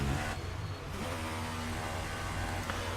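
A Formula 1 car in a racing video game, driven into the pits for a stop at the German circuit, its engine humming steadily at a medium pitch, fairly loud and continuous for a few seconds.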